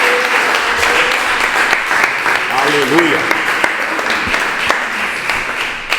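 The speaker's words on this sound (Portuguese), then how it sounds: "Aplaude ao Senhor e podemos sentar, irmãos." A church congregation claps together in steady, sustained applause, with a voice speaking and calling out over the clapping throughout.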